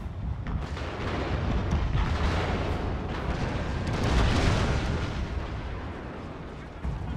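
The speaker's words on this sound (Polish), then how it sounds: "Nasza fregata też otwarła ogień." Naval frigate cannon fire in a Total War: Shogun 2 sea battle. A dense, continuous barrage of booming artillery rumbles throughout and swells near the middle, with no speech.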